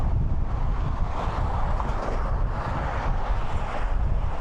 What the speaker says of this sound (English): The wind here now is that strong.